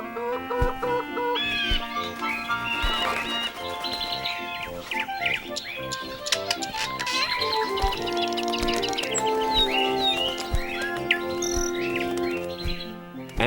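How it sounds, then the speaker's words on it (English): Birds chirp and sing in a busy, layered chorus with bright repeated calls and a few clucking fowl mixed in, steady and fairly close throughout with no talk. "and more birds"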